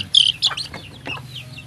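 A hen clucks close by in a few short bursts, with a faint background hum.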